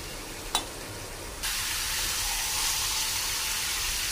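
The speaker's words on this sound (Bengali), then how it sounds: "এবার আমি কষানি করে নেব।" Chicken curry sautéing in hot oil, a steady broad sizzle that jumps louder after a brief clatter and holds through to the end, close and without talk.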